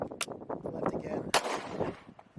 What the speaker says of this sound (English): So we're gonna go ahead and take some shots now.